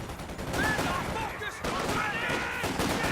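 A defensive grenade bursts in a real-time strategy match, amid a dense, steady wash of rapid gunfire and battle noise with a few brief tonal effects on top, loud and continuous throughout.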